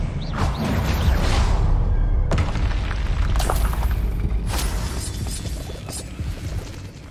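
Casting the Expelliarmus spell in the Hogwarts Legacy video game brings a loud, booming magical blast with crackling bursts layered over a sustained rumble that slowly tapers off.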